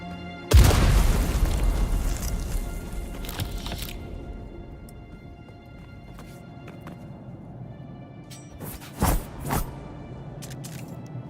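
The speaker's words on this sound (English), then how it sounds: "Oh, that's a bomb." A bomb goes off in the video game Dune Awakening: one loud, close boom with a long rumbling decay, followed later by a couple of smaller cracking bursts.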